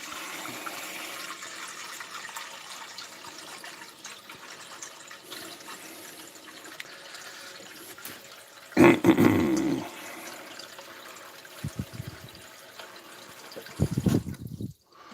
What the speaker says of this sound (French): On va les remplir. Une casserole de flotte.